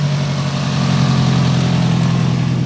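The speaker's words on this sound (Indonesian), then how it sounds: "Ada sedikit bunyi dari dalam mesin." A car engine idles steadily on a service lift, with a constant mid-low hum and a slight internal mechanical noise from inside the engine, close and continuous with no talking.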